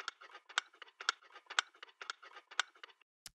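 Keys jingling in a rhythmic percussion pattern, bright metallic clinks repeating in quick groups with stronger accents about every half second, close and dry against silence.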